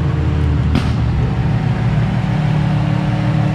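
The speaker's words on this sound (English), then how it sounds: "We hear some cars." Cars at a car meet, a continuous loud engine and road rumble from nearby vehicles with a brief sharp hiss early on, no clear talk.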